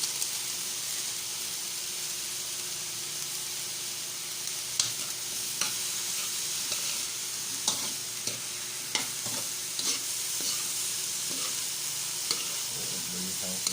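Vegetables are sautéed in a hot pan for a simple breakfast, giving a continuous frying sizzle and hiss with occasional scraping and clinking as they are stirred. No one speaks.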